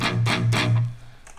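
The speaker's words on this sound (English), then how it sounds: "The distortion sound is because we have the overdrive pedal" Distorted guitar through an overdrive pedal into a channel-two metal tone in the Amplitube 4 amp simulator: three loud, chugging palm-muted strikes with gritty buzz, then a decaying ring, with no talking.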